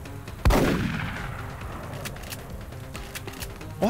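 A loud, booming gunshot in XCOM: Enemy Unknown opens with a long rumbling decay, followed by several fainter, sharp shot cracks scattered over the next few seconds against a steady background hum.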